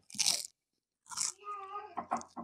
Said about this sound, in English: How about if they hear me eating nachos?